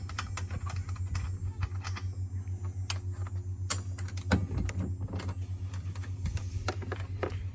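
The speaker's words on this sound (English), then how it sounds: "Using 12mm socket, we'll remove the nuts that hold these arms on." A 12mm socket wrench ratchets and clicks while wiper arm nuts come off a Chevy Aveo, a string of quick, sharp ticks and clacks over a low steady hum, close and alone without talk.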